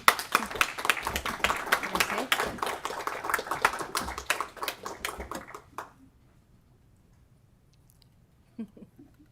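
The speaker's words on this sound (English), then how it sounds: "So, clap." Audience at a city council meeting clapping in a quick burst of many hands for several seconds, then falling away into near silence with only a faint stray sound at the end.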